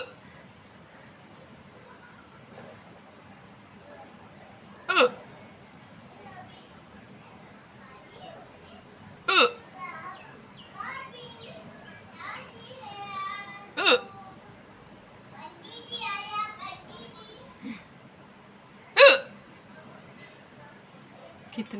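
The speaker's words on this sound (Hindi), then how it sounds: "ये मेरी रियल हिचकी एकदम जोरदार।" A woman's loud, real hiccups: four sharp, forceful jolts spaced several seconds apart, with softer vocal sounds and talk in between.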